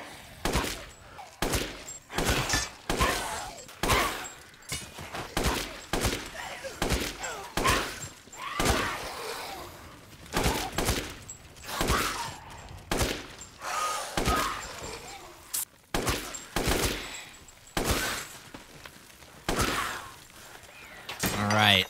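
WCX rifle fired at an enemy in the video game Resident Evil Village: a long series of loud, sharp shots in irregular bursts, close and dominant, with brief gaps between volleys.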